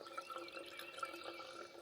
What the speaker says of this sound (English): Filling up water bottles is no joke.